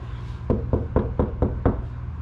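Six dull, muffled knocks on a Ford Mustang door panel covered in sound-deadening material, evenly spaced, close and fairly loud, with no ringing after each hit.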